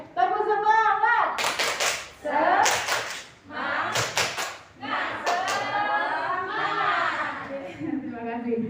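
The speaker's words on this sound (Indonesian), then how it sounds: "Tepuk semangat." Group of children doing the rhythmic Indonesian 'tepuk semangat' spirit clap in a classroom, chanting together between sharp bursts of synchronized clapping, close and lively.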